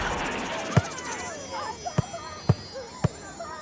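A bouncy ball is kicked high into the air several times, giving sharp, separate thumps at uneven intervals that stand out over a soft background of babble.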